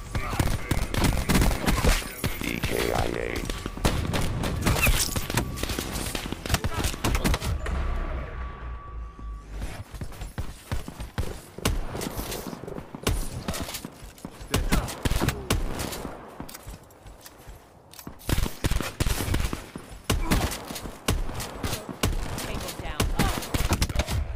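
Gunfire rattles through a round of Call of Duty gun game mode, with dense bursts of automatic shots and single cracks coming in clusters, a short lull in the middle, and game voice callouts mixed in.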